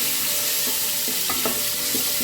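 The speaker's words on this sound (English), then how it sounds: "Now we are going to add the ginger paste, the garlic paste." Ginger and garlic paste fry in a pot for a one-pot chicken meal, a steady loud sizzle with a few stirring scrapes on top, close up and with no voices.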